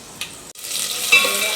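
Garlic sizzling in hot oil with mustard seeds and cumin in a pan: a loud, steady frying hiss that swells after a brief gap near the start and carries on without speech.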